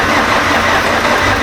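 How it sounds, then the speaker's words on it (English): A Toyota RunX with a freshly rebuilt engine cranks without catching, a steady dense churning drone held loud and close throughout with no firing or change in pace. "when it came down to trying to start this car"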